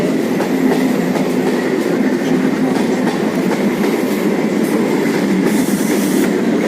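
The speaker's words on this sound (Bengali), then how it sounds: "আমার ট্রেন এসে গেছে।" A train pulls into a station platform where people cross the tracks, its steady rumbling roll and clattering wheels filling the scene loudly and continuously, with a faint wheel squeal and no voices.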